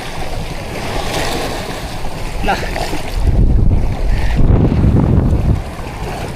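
Strong wind and a heavy sea current batter the shore at Dinahican, with rough buffeting gusts against the microphone and surging waves that swell louder in the second half, plus a brief spoken word.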